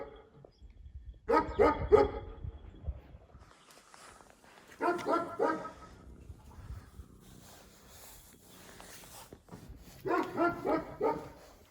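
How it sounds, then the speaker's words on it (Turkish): A dog barks in three separate bursts of rapid, fairly close barks, with quieter gaps and faint background noise between them. "Arka tarafta da köpek var bağırıp duruyor."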